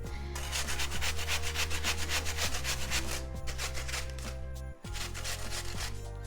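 Bramley apple rubbed against a metal grater, a quick steady rasping scrape repeating in even strokes, close and fairly quiet, with no talking.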